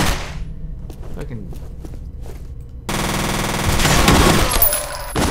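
Weapon fire in the video game F.E.A.R. rattles out in sharp bursts, first a few scattered shots, then dense, loud automatic fire that keeps going to the end, with occasional footsteps and thuds.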